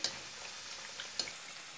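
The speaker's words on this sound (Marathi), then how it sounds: "याच पद्धतीने बाकीच्या पुरी आपण तळून घ्यायचे आहेत।" Methi (fenugreek) puris deep-frying in hot oil give a steady, faint broadband sizzle, broken by a couple of sharp crackles near the start and again toward the end.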